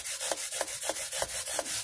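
A used paper sanding pad rasps back and forth over metal guitar frets in quick, even strokes, close and steady, about six passes.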